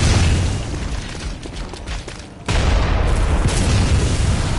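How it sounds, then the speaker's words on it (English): Loud, dense gunfire and booms ring out in the Upper Cathedral Ward area of the video game Bloodborne. The rumbling blasts fill the whole clip, dipping briefly midway before surging back at full strength. "immediately avoid the gunfire"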